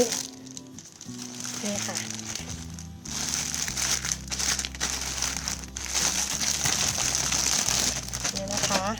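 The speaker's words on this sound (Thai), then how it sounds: "แล้วก็จะมัดปากถุงให้สนิทเลย เป็นการอบเขาไว้นะคะ" A plastic bag crinkles and rustles while basil cuttings are bagged and sealed for rooting, close and continuous under someone speaking.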